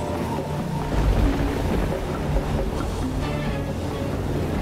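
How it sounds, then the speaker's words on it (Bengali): A cartoon storm at sea with a small boat, loud continuous rushing of wind and surging waves with a deep low rumble, steady throughout with no speech. "দেখছো কিরকম ভয়ঙ্কর ঝড়"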